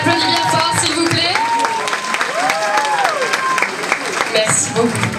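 Audience applause for a candidate at the Miss Yonne 2024 beauty pageant, steady clapping that fills the room throughout, mixed with voices, music and tonal whoops over the crowd.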